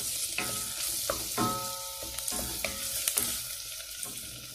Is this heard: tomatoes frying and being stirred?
yes